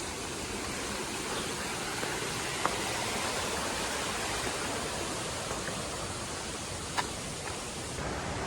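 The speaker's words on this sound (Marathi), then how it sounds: "आवाज यायला धबधबायचा" Barki waterfall near Kolhapur roars as a steady, unbroken wash of rushing water, loud and even throughout, with no voices.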